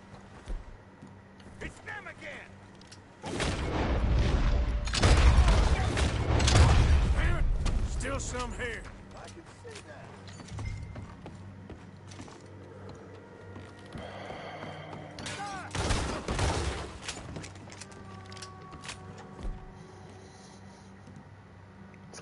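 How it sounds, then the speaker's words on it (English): Heavy shotgun fire in the video game Red Dead Redemption 2 bursts out in a loud blast of shots, followed later by another burst, with people talking between the shots. "Oh, that's the shotgun."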